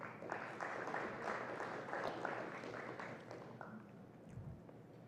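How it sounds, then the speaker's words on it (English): Applause from a conference audience at the opening ceremony of a regional cricket conference, a dense, even clatter of many hands that thins out toward the end, heard faintly at a distance. "Ladies and gentlemen, please give yourselves a round of applause."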